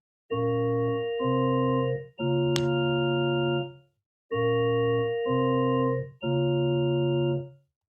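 Two pairs of sustained chord phrases ring out, each three chords long with short breaks between, passing notes shifting the harmony, played cleanly with no talking.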